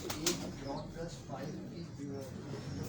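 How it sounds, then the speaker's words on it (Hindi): Low, soft cooing from a Salara pigeon on a Karachi rooftop loft, a few throaty coos repeating close by, mixed with a voice talking over them. "ये देखें जी, एक सलारा कबूतर है जी"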